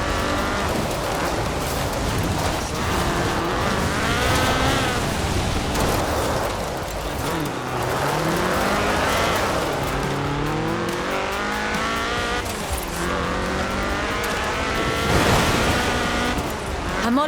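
Ford RS 1800 rally car with a fuel-injected 1790cc Cosworth BDE engine in Forza Horizon 4, revving hard through repeated rising and falling gear changes, loud and sustained with brief tire squeal.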